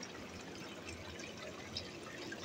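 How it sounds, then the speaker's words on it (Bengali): Water patters and trickles down the sides of a semi-controlled poultry shed, a faint, continuous wash of falling drops with no voices. "সাইড দিয়ে পানি পড়তেছে"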